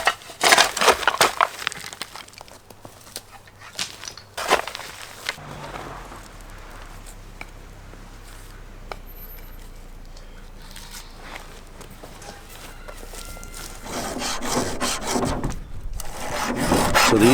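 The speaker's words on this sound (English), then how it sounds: "So I think a lot of the rock I'm just gonna like rake toward where that little mini pond is" Rock being raked across the ground outside a tiny home, with scraping, grinding strokes loudest at the start and again toward the end, quieter rustling in between, and faint voices present.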